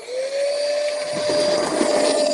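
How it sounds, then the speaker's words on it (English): A Shark Rotator Lift Away Professional vacuum cleaner runs close by with a steady, fairly smooth motor whine and airy rush that holds constant throughout, no voices. "Very quiet vacuum."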